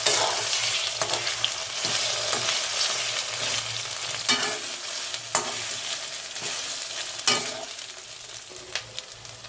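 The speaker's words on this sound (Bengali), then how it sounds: "আদা রসুনটা যখন ভাজা ভাজা হয়ে এসেছে" Ginger garlic paste frying in a pan for a mutton curry, with a steady sizzle and sharp scrapes from stirring every second or two, heard close up with no talking.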